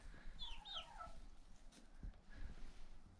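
Mixed-breed backyard hens, including Araucanas and a buff Brahma, give a few faint, high, squeaky clucks and calls early on, then go quiet over low background rumble.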